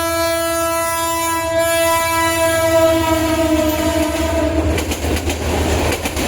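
Jamalpur Express at Piarpur station, its horn sounding in long sustained tones with strong harmonics for several seconds, then wheels clattering rhythmically over the rails as it rolls past close by.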